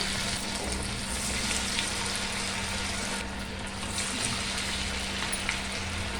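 Banana flower vada frying in hot oil, a steady, bright sizzle with a low hum underneath, continuous and close.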